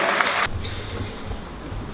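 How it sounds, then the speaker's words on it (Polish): Applause at an award ceremony, a burst of clapping that cuts off sharply about halfway, leaving low room noise and faint murmur. "Jeszcze raz wielkie brawa."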